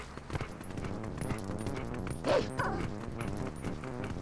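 Wolf Link, the dog form in The Legend of Zelda: Twilight Princess, gives a few short yips and whines over dense game background music.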